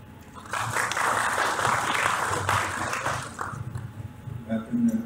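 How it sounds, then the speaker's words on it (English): An audience at a space science and technology business forum gives a warm round of applause for a speaker, a dense burst of clapping lasting about three seconds before fading into a voice beginning to talk. "Friends, I give a warm round of applause to Dr."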